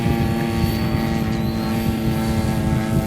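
A muffled model airplane engine flies at the Goshen airshow, a continuous loud buzzing drone with steady harmonic tone over low rumble, sustained throughout without pause.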